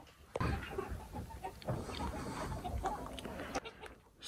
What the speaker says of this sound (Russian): Все, цыплят теперь тоже выгоняем